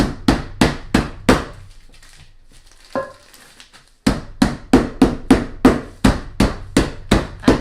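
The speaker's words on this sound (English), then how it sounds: "I broke them in half and put them in a Ziploc bag. And I did that so I could just beat them." Butterfinger candy bars sealed in a Ziploc bag are pounded in a fast, steady series of sharp, close thuds, a short pause with rustling in the middle, then another rapid run of blows.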